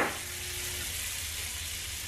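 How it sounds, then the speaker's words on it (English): Salted butter sizzling on a preheated griddle, a close, steady hiss and crackle throughout with no voices. "you want to throw on about a tablespoon or so of butter. It's just regular old salted butter"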